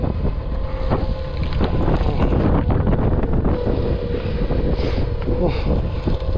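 Wind blowing over a small fishing boat at sea while it is steered and a net is hauled, a steady loud rushing buffet with mic wind noise, water and hull sounds underneath.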